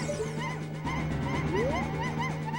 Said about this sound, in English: Sound that makes when you pick up Princess Ruto.